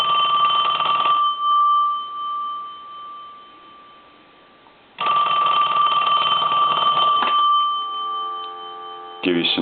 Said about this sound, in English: we're going to ring this telephone one last time